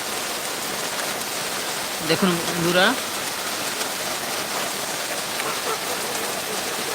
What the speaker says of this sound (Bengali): প্রচণ্ড বৃষ্টি হচ্ছে প্রচণ্ড পরিমাণে চারিদিকে সাদা হয়ে গেছে